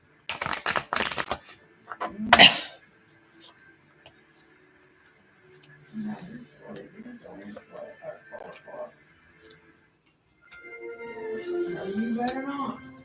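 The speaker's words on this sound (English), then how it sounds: "Last shuffle." Tarot cards shuffled by hand at a reading give a quick riffling burst, a sharp snap, then softer sporadic card taps, with a person talking in between and again at the end.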